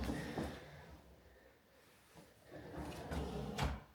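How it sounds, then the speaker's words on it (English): A soft-close kitchen drawer in a home's bank of drawers glides shut in a few soft, low thumps and rubs, spread across the moment with quiet gaps between. "Who doesn't love a soft closed drawer?"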